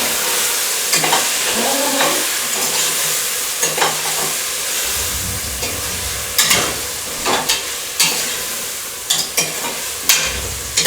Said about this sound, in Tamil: இதெல்லாம் நல்லா வணக்கிறோம்